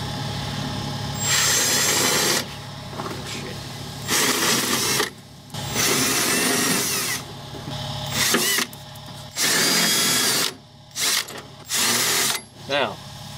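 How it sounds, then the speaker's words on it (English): A power drill drills the head off an aluminum rivet in a Chevy Caprice door, whining in several bursts of varying length, with pauses and background talk between them, ending in a few short stuttering pulses. "We're just going to drill the head off."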